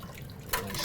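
Dissolved curing brine for a lamb ham is poured back into a container, a short soft splash and trickle of liquid rising near the end of a quiet moment.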